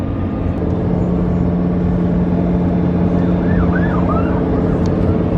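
A police siren wails briefly and faintly in the distance, heard from inside a Lamborghini Huracan and largely buried under the loud, steady engine and road roar.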